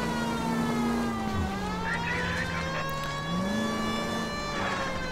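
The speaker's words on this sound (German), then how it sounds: "wenn ich Sirene anhabe und auspacken will, dann wartet ihr" A police car siren wails in the video game L.A. Noire, loud and close, its pitch slowly rising and falling in long sweeps over a running engine, with no voices.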